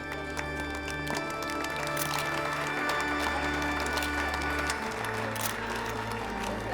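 An audience welcomes Mr. Leo with applause: dense, continuous clapping that holds steady at a moderate level for several seconds over a low background hum.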